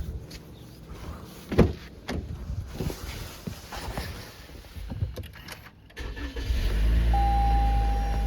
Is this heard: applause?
no